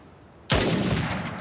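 Single sharp gunshot from a weapon in the video game Uncharted 4: A Thief's End, a loud sudden crack after a quiet start, followed by a sustained noisy reverberant tail with no talk.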